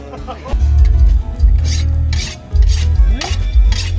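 Repeated rough rasping strokes of a hand saw cutting through goat meat and bone, loud and close, in an uneven back-and-forth rhythm.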